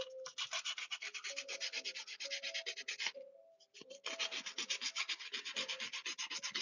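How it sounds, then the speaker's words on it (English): Gritty sandpaper rubs back and forth over a custom figure in steady, rapid strokes, close and fairly loud, with a brief pause near the middle before the scratchy sanding resumes. "Sanding, sanding, sanding. Where's my other piece of sandpaper?"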